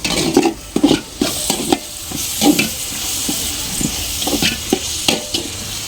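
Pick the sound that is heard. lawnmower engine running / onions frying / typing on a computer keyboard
onions frying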